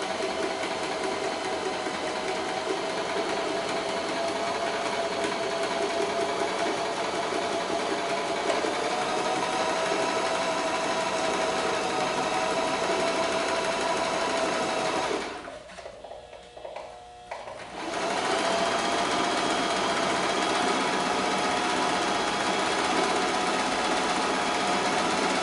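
A sewing machine runs a straight stitch through fabric with a steady, continuous mechanical whir up close, pausing briefly about two-thirds of the way through before resuming at the same even pace.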